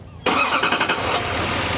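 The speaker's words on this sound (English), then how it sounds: "you can hear the truck starts right up for you" A 2020 Chevrolet Silverado HD with a 6.6 liter diesel engine starts by remote start, catching quickly and settling into a steady, fairly quiet idle nearby, with no speech.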